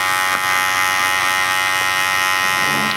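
Electric hair clipper running steadily and close up while cutting hair during a military-style fade haircut in a barbershop, a continuous high buzz with no talk.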